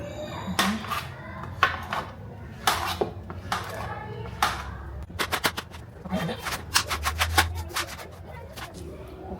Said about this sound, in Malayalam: പപ്പായാണ് കട്ട് ചെയ്യുന്നത്.